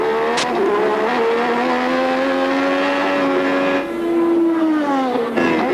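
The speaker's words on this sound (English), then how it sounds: "And Dumfries is really motoring now, past the grandstands" A 1986 Formula One race car at Australian Grand Prix practice roars past the grandstands, its loud high-revving engine holding a steady whine that dips and shifts pitch as it sweeps by.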